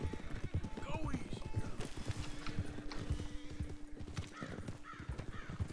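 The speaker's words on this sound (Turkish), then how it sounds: "Beyaz Arap atımız var" In Red Dead Redemption 2, a white Arabian horse walks with steady clip-clop hoofbeats and a short whinny, while people talk over it and crows caw faintly.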